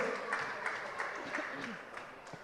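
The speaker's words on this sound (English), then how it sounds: "Let's clap for the schools." Quiet, distant applause from an audience at a national robotics championship, scattered clapping that sounds far off and low, with a faint voice murmuring over it.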